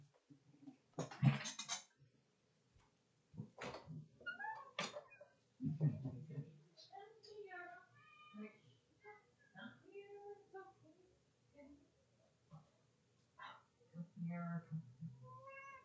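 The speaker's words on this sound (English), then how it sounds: "I got a cat at the door." A grumpy house cat meows at a door, several short cries between stretches of indoor talk and household noise, fairly close to the listener.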